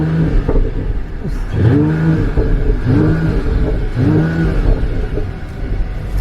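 Loud, close engine of a Mercedes-AMG GT53 four-door coupe revving up in repeated surges, each rise followed by a drop, with a constant deep rumble underneath.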